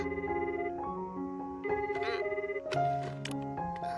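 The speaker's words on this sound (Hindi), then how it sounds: "हाँ, तुम जल्दी फोन क्यों नहीं उठाते" A telephone rings in an animated Japanese series dubbed in Hindi, with repeated electronic ringtone notes sounding in a melodic pattern, fairly quiet and clear with no talk over it.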